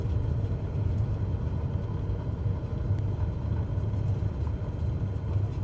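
An aircraft rolls out on a runway after landing in Microsoft Flight Simulator 2020, a steady low rumbling engine and wheel drone with no talking.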